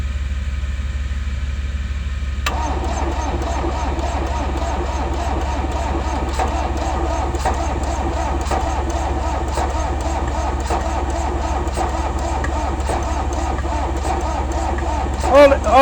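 A 1970 Mercedes-Benz diesel engine cranks over on its starter, a steady rhythmic churning that continues without catching, loud and close.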